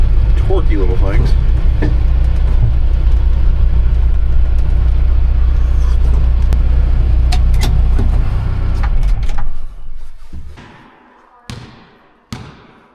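An Asia Rocsta off-road vehicle with a 2.5 litre diesel engine runs with a loud, steady low rumble in snowy weather, then dies away near the end, leaving a few sharp knocks.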